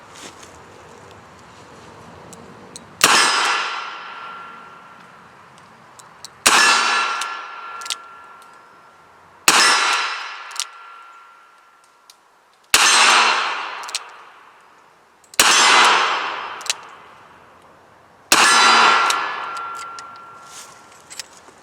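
Smith & Wesson Governor revolver firing .45 ACP rounds at a range, six loud, sharp single shots spaced a few seconds apart, each with a ringing metallic tail.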